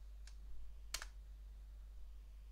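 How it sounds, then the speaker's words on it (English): A couple of faint, quick keystrokes on a computer keyboard while entering a terminal command on Debian 12 Linux, heard over a steady low hum. "So we type sudo systemctl restart"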